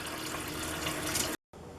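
Tap water pours steadily into a pot holding a whole Thanksgiving turkey, a loud, close, unbroken splashing rush that cuts out briefly before resuming.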